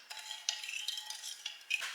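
A utensil stirs lukewarm soy milk and white sugar in a bowl, giving soft scraping and light clinking close by for about two seconds, with no talking.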